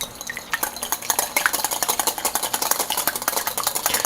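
A whisk or spoon stirs egg batter for cannoli cookies in a bowl, with quick rhythmic clinks and scrapes, loud and close.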